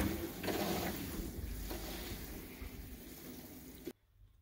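Water rushes through the supply line while a Rinnai V65iP tankless water heater is purged in an off-grid home, a steady broadband hiss that runs for about four seconds and then cuts off sharply, leaving a faint low hum.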